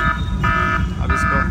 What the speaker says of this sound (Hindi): डेंजर का अलार्म स्टार्ट